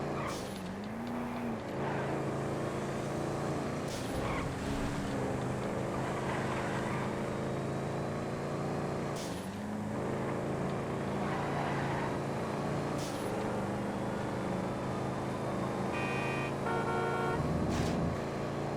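Cars racing in a GTA FiveM game, with a continuous loud engine drone running throughout and a few sharp higher-pitched bursts and tonal blips layered over the top.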